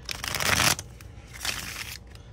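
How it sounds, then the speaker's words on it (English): Tarot cards shuffled in two brisk bursts, a longer riffling flutter followed by a shorter one after a brief pause, close and fairly quiet with no talking. "Let me shuffle one time here."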